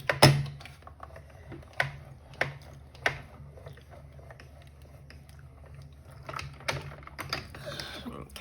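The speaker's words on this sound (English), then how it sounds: "And then we just run it through our die cutting machine." A die cutting machine running, with a faint steady low hum under scattered clicks and mechanical clunks, plus a few sharper knocks near the start, heard up close.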